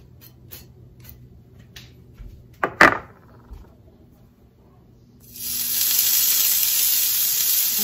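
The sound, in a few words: bratwurst sausage sizzling on a grill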